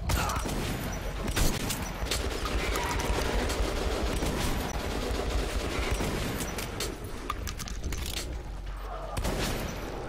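Sustained automatic gunfire from the Metro Last Light video game, dense rapid bursts rattling continuously and loudly for the whole stretch with scattered booms and no pause.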